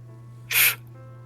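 A single short, sharp sneeze, loud and close, over a steady low background hum; a voice imitating a sneeze, with no words spoken.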